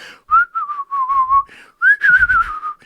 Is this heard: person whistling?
yes